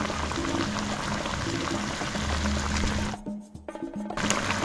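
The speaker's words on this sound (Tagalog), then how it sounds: "At papakuluan lang natin siguro, bigyan natin ng 20 to 30 minutes." Creamy chicken and mushroom with soy sauce and a little water simmer in a pan, a steady bubbling boil close by with a brief quieter gap toward the end.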